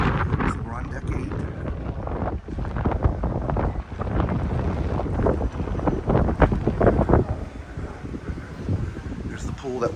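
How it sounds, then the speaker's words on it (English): Strong wind buffets the microphone on deck 8 of the MSC Seaside cruise ship, a loud continuous rumbling roar that surges and dips throughout. "And here comes that wind I was talking about."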